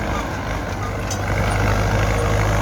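A Ford 6600 tractor engine idles and runs with a steady low diesel drone that swells slightly louder toward the end, close by and continuous.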